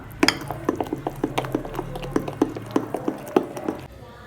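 A spoon stirs bun dosa batter with salt in a bowl, producing rapid, close, rhythmic clinks and scraping knocks at a brisk, even pace that stops just before the end.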